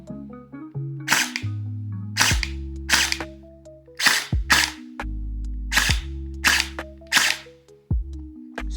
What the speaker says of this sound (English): it's gonna shoot forward and create that air to shoot that BB out